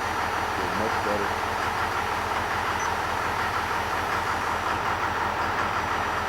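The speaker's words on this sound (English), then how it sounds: "Hear that governor bounce?" A 12 valve Cummins diesel idles steadily and loud up close, its low rumble carrying a rhythmic hunting surge from governor bounce, continuous throughout with no talk.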